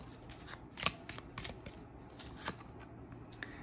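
Tarot cards are shuffled and drawn in quiet, soft close riffles and flicks, several brief papery snaps scattered among gentle rustling, fairly faint.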